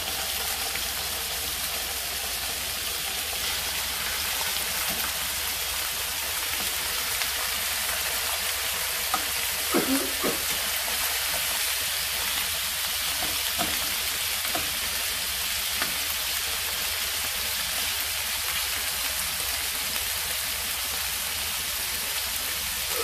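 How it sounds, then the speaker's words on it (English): Pork ribs fry and brown in oil with brown sugar in a pan, giving a steady, dense sizzle and crackle that runs throughout with a few sharper pops near the middle. "let's start frying our ribs"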